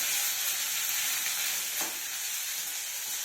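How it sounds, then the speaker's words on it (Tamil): Onions browning in a pan with mustard seeds, pepper, cumin, garlic, curry leaves, dried and green chillies for a buttermilk curry, giving a continuous close sizzle with one brief stirring scrape. "வெங்காயம்லாம் நல்லா ப்ரௌனாக வறுக்கணுங்க."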